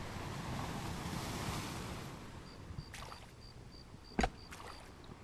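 Water swishing and rolling waves around a boat moving through the sea in a video game, a steady wash that fades midway, followed by a few faint clicks and a short thump.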